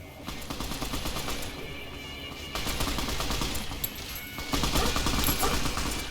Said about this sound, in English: And so there's a firefight somewhere.